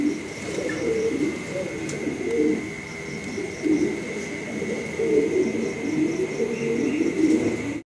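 A pair of grey barless copal lark pigeons cooing steadily and close by, their low rolling calls repeating throughout with a faint steady hum behind.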